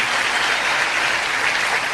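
An audience applauds teachers at a Juan Guaidó political gathering: dense, steady clapping throughout, loud and close, with no voices over it.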